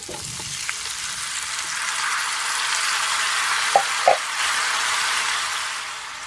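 Ackee fries in a pan with a steady broad sizzle that swells and holds, a couple of sharp clinks of a spoon against the pan partway through, no talking.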